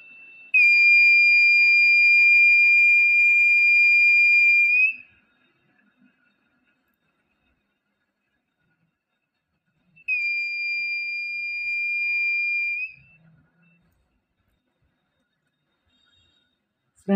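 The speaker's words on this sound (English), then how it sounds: "when I remove this cap from LDR, then this buzzer will produce sound" A steady high-pitched tone from a buzzer in a light-detector circuit using a 2N3904 transistor and an LDR sounds alone for about four seconds, stops, then returns for a shorter burst after a silent gap.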